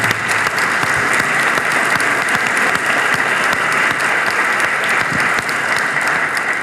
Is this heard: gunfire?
no